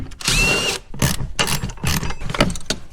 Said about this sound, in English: Grab a deep 10mm socket, take these guys off.